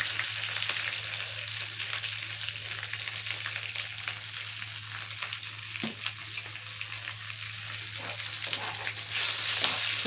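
Spices with a pinch of asafoetida frying in oil in a pan for raw mango coconut chutney, a soft continuous sizzle with occasional stirring scrapes and a brief clink, no speech.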